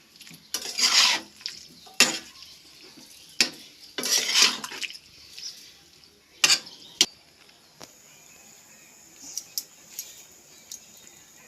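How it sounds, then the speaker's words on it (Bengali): Intermittent scraping clinks of a spatula stirring salted broccoli masala in a pan, a few sharp metallic scrapes in bursts separated by quiet gaps, fairly close and alone. "লবণটা দিয়ে খুব ভালোভাবে খুন্তি করে একটু নাড়াচাড়া করে মিশিয়ে নেব"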